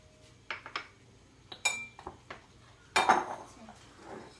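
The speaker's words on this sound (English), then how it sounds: "I'm just going to finish stirring this up" A spoon clinks and scrapes against a bowl as cupcake batter is stirred, giving several close, irregular taps with one louder clatter near the end.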